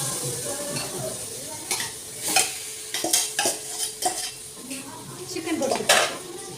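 Yogurt-and-turmeric marinated chicken stirred in a hot pan, with a steady sizzle under repeated clinks and scrapes of a metal utensil against the pan, close up and irregular in rhythm.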